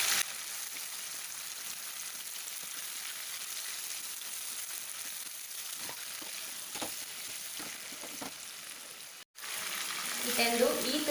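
Chicken ghee roast fries in a pan with a soft steady sizzle and occasional stirring scrapes, faint and close, with a brief cut near the end followed by louder spattering.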